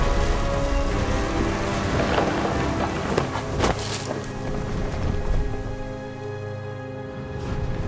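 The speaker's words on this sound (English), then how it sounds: "The thunder sounded much too close and full of angry power" Rain pours steadily with a heavy thunder crack and rumble near the middle, a dense stormy wash that stays loud throughout this stormy scene from the video game What Remains of Edith Finch.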